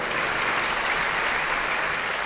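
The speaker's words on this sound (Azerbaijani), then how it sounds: "Gəlin, alqışlarla qarşılayaq lütfən." An audience applauds at an opera festival, a dense steady wash of clapping from a large crowd, loud and sustained without any break for the whole short stretch.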